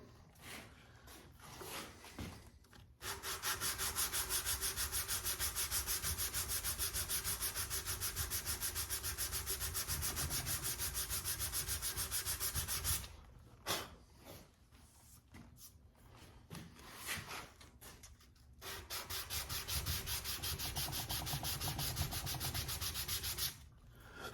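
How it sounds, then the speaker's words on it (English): A wooden stock from an Ithaca Model 66 .410 shotgun is block sanded flat with sandpaper wrapped on a block. Long runs of steady rhythmic rasping strokes, close and alone, break off briefly near the middle before resuming. "take the sandpaper, wrap it around the block, and we're just gonna block sand the top of this to get it good and flat"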